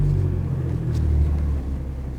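A car passing close by outdoors, a loud low rumbling engine and road noise that swells slightly and then fades, with no talking.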